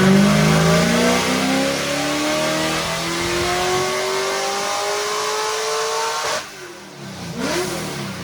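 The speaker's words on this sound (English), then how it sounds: "So now we have the new Golden Engines 416 LS3 base motor in here, all buttoned up, put back together." A Golden Engines 416 LS3 V8 in a Mazda RX-7 FD race car revs loudly up through the gears with rising pitch sweeps, then drops off briefly near the end before picking up again.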